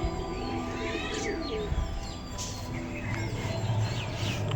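Pigeons kept for sale coo softly nearby, with a few chirps from other birds in the background and faint low rumbling noise.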